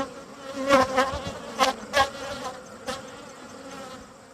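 Honey bees buzz around an opened eight-frame brood box during a hive inspection, a steady close hum with several louder passes as individual bees fly near.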